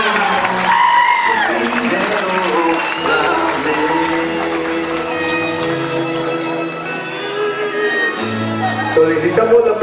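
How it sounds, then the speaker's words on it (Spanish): Wedding guests applaud the bride's parents at a reception, a sustained burst of clapping and cheering mixed under loud music and voices. "que se escuchen fuerte los aplausos para los padres de la novia"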